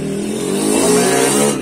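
Bored-out 185cc Honda Supra 125 motorcycle engine with a four-valve head, tuned with racing ratios, revving loud and close, rising in pitch to a sustained high drone with no talk.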